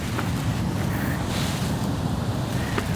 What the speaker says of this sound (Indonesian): Ombaknya emang kenceng banget.